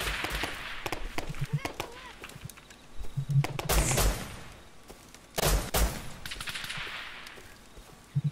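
Rapid bursts of video game gunfire crack repeatedly, some sharp and loud, others more distant, with short pauses between volleys and no one speaking.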